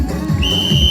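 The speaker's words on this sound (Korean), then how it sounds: "여러분 제가 호루라기 불면 입수할게요." A single sharp referee-style whistle blast sounds at a winter trout festival to start a bare-hand trout catch, one steady high tone held for about half a second over crowd noise.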